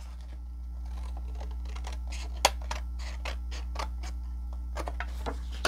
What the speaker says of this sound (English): take a pair of scissors and just cut it off